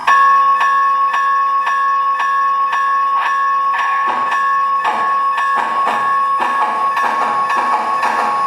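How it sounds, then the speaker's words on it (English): An O scale Southern Pacific AC-12 model steam locomotive rings its bell in a steady, evenly spaced clang, roughly two strokes per second, while rumbling chuffs grow in beneath it. "Start ringing the bell."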